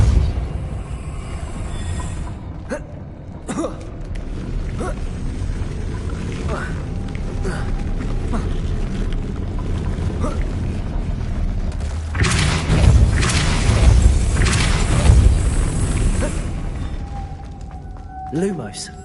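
Depulso spell effect in a Hogwarts video game: heavy booming thuds and a rumbling blast that swells midway and fades, over continuous game ambience.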